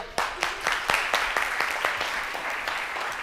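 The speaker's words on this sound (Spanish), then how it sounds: "para el que pido un gran aplauso" A live audience at a Spanish-language talk on happiness and cognitive therapy breaks into applause, a steady wash of many hands clapping that starts sharply and holds fairly evenly, with distinct louder claps standing out throughout.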